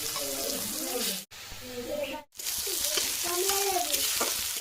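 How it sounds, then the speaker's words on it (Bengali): Cabbage frying in a pan with shrimp, a steady soft sizzle and stirring that runs throughout, cut by two brief gaps, with faint voices now and then. "বাঁধাকপিটা এবার বসিয়ে দিলাম।"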